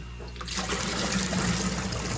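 Pond water is scooped into a container for a DIY fish pond holding cichlid fish, giving a sudden rushing, gurgling pour that continues steadily and close for about two seconds.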